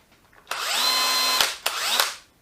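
DeWalt DCD996 cordless drill, just repaired with its chuck, clutch, gearbox and speed switch, runs in two bursts: a rising whine that holds steady for about a second, then stops with a click, and a shorter second spin-up. Close and loud.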